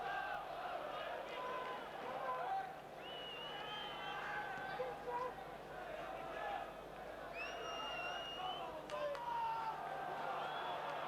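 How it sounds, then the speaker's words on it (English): Crowd at a 1989-90 Leeds United v Middlesbrough football match during the closing stages, a continuous distant roar with rising shouts and whistles under the general din. "The crowd right behind United now"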